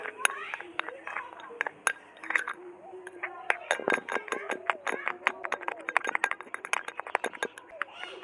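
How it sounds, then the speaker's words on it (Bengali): A spoon stirs foamy foot-remedy ingredients for cracked heels in a bowl, making rapid, light clinks and taps against the bowl, with a voice speaking underneath. "এরকম করে ভালো করে সব কিছু উপকরণ মিশিয়ে নিতে হবে"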